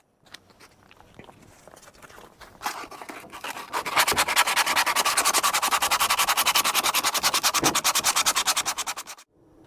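Sanding down a corner of a custom console for a Cummins-swapped square-body K30 pickup truck: a few light scrapes first, then a steady run of fast rhythmic rasping strokes close up for several seconds before it stops.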